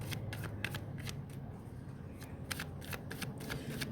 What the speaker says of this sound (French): Je vais remélanger.